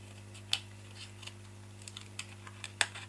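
Scissors snip through card while a handmade gift is being made, two crisp isolated cuts about two seconds apart over a quiet room with a steady low electrical hum.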